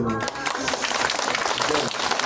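Applause from a crowd of university freshmen at a church campus mission gathering, dense steady clapping for about two seconds with some voices mixed in.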